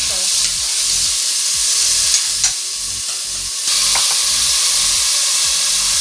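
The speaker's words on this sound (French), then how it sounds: "Donc je mets de l'huile dans le fond de mon faitout. Je rajoute mon oignon." Onion frying in oil in a cooking pot, a loud close sizzle with rhythmic stirring scrapes and a brief dip in intensity midway, no speech.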